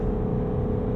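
A 2024 Jaguar F-Type R75 with all-wheel drive and a limited slip differential accelerating, heard from inside as a dense, steady low engine drone with road roar and no talking.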